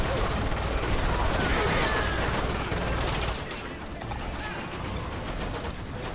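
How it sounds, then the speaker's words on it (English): Gunfire in the shooter game Lost Planet 2: a dense, steady clatter of rapid shots and mechanical noise that drops in volume partway through and continues more quietly. "Try to shoot those guys too."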